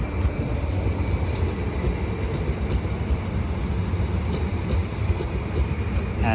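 A London Northwestern Railway class 350 electric multiple unit pulls into Milton Keynes Central station on the West Coast Main Line, a steady loud rumble and rolling hum with faint squeals and clicks from the wheels.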